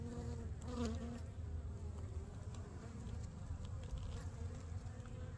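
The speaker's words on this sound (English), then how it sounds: "There's bees in there." Bees buzz around a single hive that other bees are robbing, a continuous close hum of many wings with individual insects droning past, fairly quiet and with no voices.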